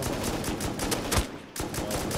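A rapid string of gunshots from an online shooter battle against a helicopter rattles steadily, evenly spaced close shots layered over continuous noisy combat ambience.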